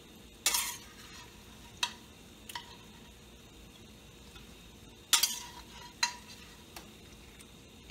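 Cinnamon crisps fry in hot oil in a frying pan, a soft, quiet sizzle under several sharp clicks and scrapes of utensils against the pan, spaced irregularly.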